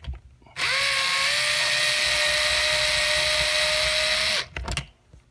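A power drill drives screws into a wall mount for a wireless security camera, a loud, steady whine that starts abruptly, holds for about four seconds and stops, followed by a few faint clicks and handling sounds.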